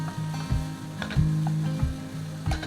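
Brussels sprouts and bacon frying over low heat in a pan, a gentle sizzle under repeated low humming pulses and occasional light clinks of stirring, close by.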